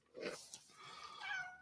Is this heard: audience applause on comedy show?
no